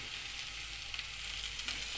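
Eggplant pieces sizzle steadily in hot oil in a frying pan while a fish curry is being cooked, giving a close, continuous crackling hiss with small pops and no voices.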